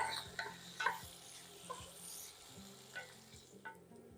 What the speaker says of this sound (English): Let's get this pancetta finished up.